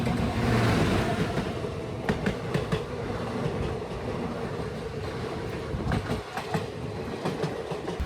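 The Sealdah Ajmer Express runs along the rails, a loud steady rumble inside the moving train with bursts of rhythmic clickety-clack as wheels cross rail joints.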